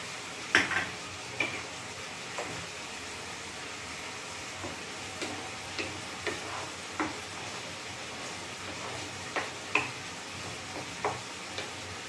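Chopped tomatoes sizzling as they hit a pan with oil and a little sugar, with soft frying hiss under scattered stirring clicks and spoon-on-pan taps.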